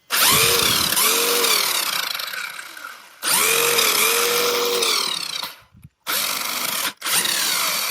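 Electric motor of a Hosim X17 1/8-scale RC truck whines loudly as it drives forwards, rising and falling in pitch across several full-throttle bursts separated by brief pauses, close and alone.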